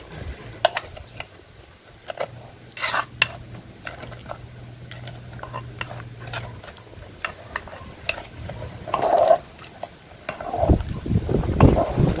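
Spoon scraping and tapping around a pot of boiling suki dipping sauce in irregular strokes, with light bubbling and clinks, close up and fairly quiet.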